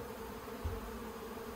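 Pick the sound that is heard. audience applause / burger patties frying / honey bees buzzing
honey bees buzzing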